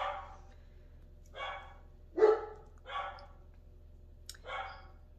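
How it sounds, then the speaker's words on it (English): Dogs barking somewhere in a house, five separate barks spaced about a second apart, moderately distant and fairly faint over a low steady hum. "there go the dogs"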